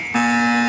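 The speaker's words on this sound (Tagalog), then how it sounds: "Buzzer na lang po maririnig nyo." A basketball game's end-of-period buzzer sounds loud and steady, starting abruptly and holding one continuous electronic tone with no talk over it.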